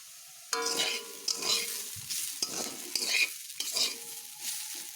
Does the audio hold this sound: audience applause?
no